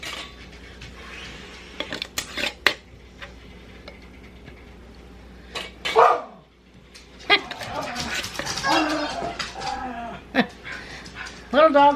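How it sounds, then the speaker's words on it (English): Small and large dogs play together, with scattered barks, yips and panting, some close and sharp, against a quiet background with occasional thumps. "Little dogs playing with the big dogs."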